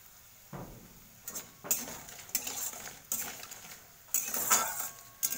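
Lentil dumplings (bori) fry in a pan for a Malabar spinach ghonto while a spatula stirs them, producing repeated close scraping and clinking strokes against the metal with a faint sizzle underneath.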